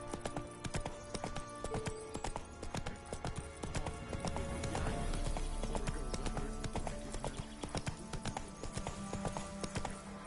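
The Witcher 3's horse Roach at a gallop, rapid rhythmic hoofbeats drumming continuously and loudly throughout, with heavy thuds and no voices.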